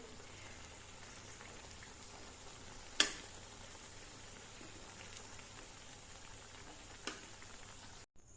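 Sweet gulgule fritters fry in hot oil, a soft steady sizzle and bubbling heard alone at low level, with a couple of sharp clinks or taps along the way.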